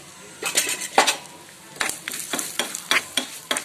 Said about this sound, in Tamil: இந்த இதில் ஜீரகம், மிளகா, முந்திரி, நெய்ல எல்லாத்தையும் போட்டு வறுத்து